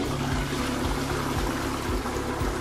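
An Ariston ceramic toilet flushes during a mixed media test, giving a steady rushing, gurgling water flow with a faint rhythmic pumping pulse underneath, fairly quiet and continuous.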